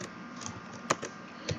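Soft typing on a computer keyboard, a few quiet clicks and taps at uneven intervals, faint and close, with no speech.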